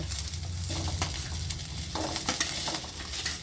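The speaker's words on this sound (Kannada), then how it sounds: "ಈಗ ಟಮಾಟೆ ಹಣ್ಣು ಹಾಕ್ತೀನಿ." Tomatoes and onions fry in hot oil with a steady close sizzle, broken by a few scraping stirs of a spoon against the pan, with no voices.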